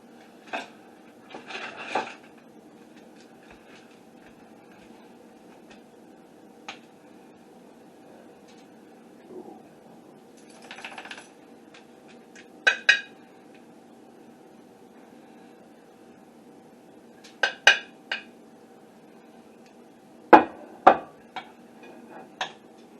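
A serving spoon clinks against a dish while hamburger pie topped with parsley is served in a home kitchen, scattered sharp metallic taps and scrapes over a quiet room hum.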